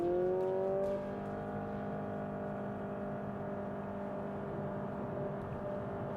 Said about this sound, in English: this is an ECVT transmission, so if you were wondering, you could just hear it whole revving